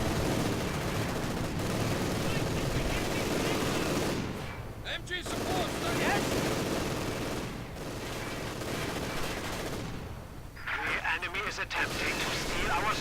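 Armor-piercing rounds fired in a real-time strategy war game, a dense continuous barrage of gunfire and artillery-like blasts with brief lulls, loud and busy, with a voice talking over the battle.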